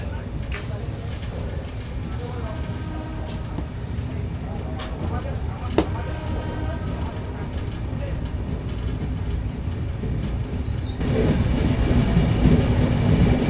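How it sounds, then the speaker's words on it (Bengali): Kolkata–Radhikapur Express (13145) pulling out of Ambika Kalna station, a steady low rumble of wheels and carriage with faint clicking, growing louder toward the end as it gathers speed; some talk in the background. "অল্প কিছুক্ষণ দাঁড়ানোর পরই কান্না থেকে ট্রেন ছেড়ে দিয়েছে"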